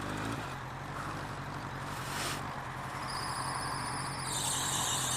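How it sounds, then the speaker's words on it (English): A small squeaky noddy car runs on a morning outing, its continuous high squeal and whine riding over a steady engine hum and growing brighter toward the end. "Squeaky noddy car."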